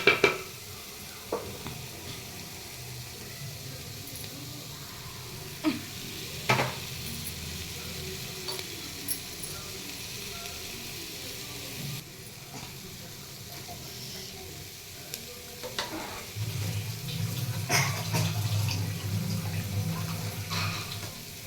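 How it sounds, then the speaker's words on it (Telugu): Rice stirred into a hot pan of frying soybean and vegetable biryani, giving a steady close sizzle with scraping spoon strokes that grow louder and fuller toward the end. "ఇట్లా రైస్ యాడ్ చేసుకుందామండి."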